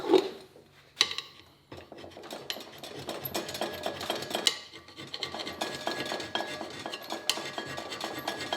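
Hand scraping on the cast metal clapper of a Gingery metal shaper, a steady run of close, dry rasping strokes with short pauses between passes, no voices.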